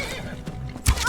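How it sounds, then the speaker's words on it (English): A horse whinnies in the video game Skyrim, one short neigh rising near the end of a brief stretch over soft game ambience. "He's a good horse who deserves better."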